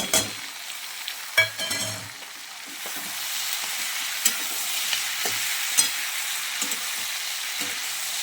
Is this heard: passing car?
no